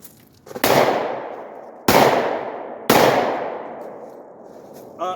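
Three loud, close shots from a Glock 22 .40 caliber pistol fired one-handed at an outdoor range, spaced about a second apart, each with a long decaying echo, followed by a faint metallic clink.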